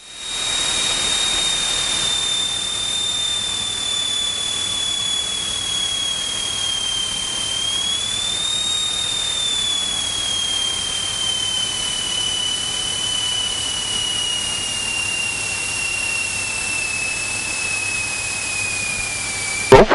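A small tailwheel airplane lands on a runway, its steady engine hiss and a high whining tone holding continuously for the whole stretch, with the pitch dipping slightly midway and no talk over it.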